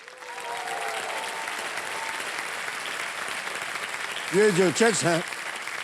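Studio audience applause on a TV quiz show, a steady crowd clapping under a voice speaking Hindi, with brief louder musical or vocal swells near the end.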